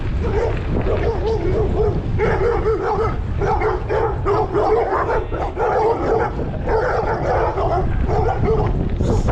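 Several dogs bark and yip together at a fence, close and continuous through the whole stretch, with whimpering mixed in and a steady outdoor rumble underneath.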